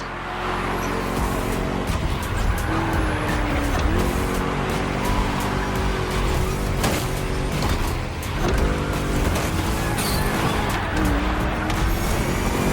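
Racing car engines in the Motorfest video game, a dense loud roar with revving pitch swings, tire noise and bursts of passing traffic, steady and close across the whole stretch without speech.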